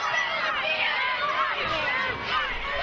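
Capacity crowd at ringside in a wrestling arena, a dense, steady roar of mixed voices and shouting that fills the space continuously without pause.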